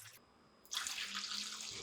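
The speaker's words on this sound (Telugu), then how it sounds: "పాల్లో 1 కప్పు బియ్య పిండి వేసి 2 కప్పుల వాటర్ పోస్తున్నాను" Water poured into a pot holding one cup of rice flour for undralla payasam: after a short quiet pause, a steady, close splashing pour starts and runs for about a second.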